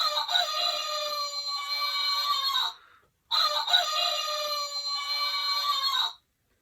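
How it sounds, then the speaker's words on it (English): Two long, loud crowing calls sound close by, each lasting a few seconds and separated by a brief pause, with no talking around them. "and immediately the rooster crowed."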